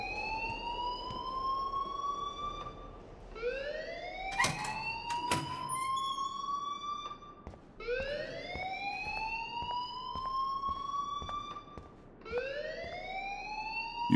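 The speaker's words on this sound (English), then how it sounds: "please turn off that alarm since that's your job" A school alarm in the game Life is Strange wails in repeated rising whoops, about four sweeping cycles with a few sharp clicks between them, loud and alone with no voices.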